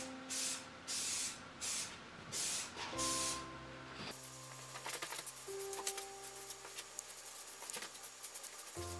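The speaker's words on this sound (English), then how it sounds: "I'm going to shoot a coat of lacquer on the legs" Lacquer is sprayed onto walnut piano bench legs in about five short, loud hissing bursts with brief gaps between them, followed by quieter handling and clattering noises up close.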